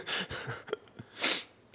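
A single short, sharp sneeze bursts out close by, preceded by some breathy sounds.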